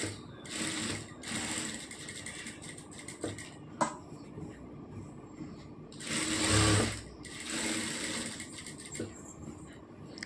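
A sewing machine stitches a churidar V-neck in short bursts, rapid whirring runs starting and stopping with clicks and fabric handling between them, close by.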